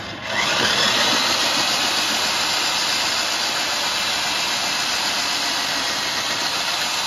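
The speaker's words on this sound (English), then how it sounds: "that's the result of a diamond core drill" A diamond core drill starts up and runs at a steady, loud whine for several seconds, grinding continuously as it bores through hard material.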